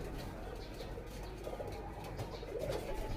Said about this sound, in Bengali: অনেক সুন্দর এই কবুতরগুলো।